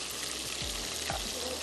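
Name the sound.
masala with tomato puree frying in a pan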